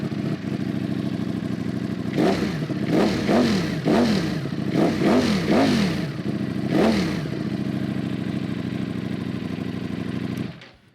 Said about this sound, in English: That Ducati exhaust note,